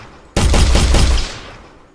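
A short, sharp volley of gunshots fires in an Unreal Engine multiplayer first-person shooter. Four or five quick cracks hit loudly at once and then fade into a decaying tail.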